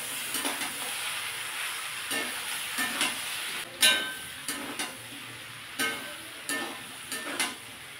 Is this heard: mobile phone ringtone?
no